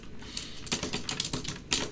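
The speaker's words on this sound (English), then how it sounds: "Oh, this keyboard is so light and horrible." Fingers type on a light, cheap-feeling computer keyboard, producing quick bursts of clattering keystrokes with brief pauses, close and fairly quiet.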